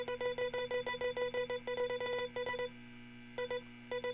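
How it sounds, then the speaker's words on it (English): Electronic beeps from a camera button in a FNAF-style game built in Scratch, a rapid run of short, evenly spaced tones repeated over a steady hum, then a pause and two more isolated beeps. "we should get a notable beep sound for every time the button is pressed"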